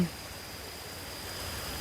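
Water spills over a small weir on a stream, making a steady, even rush of broadband noise at moderate level, with no talking.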